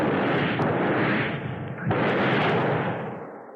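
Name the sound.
gunshot in radio drama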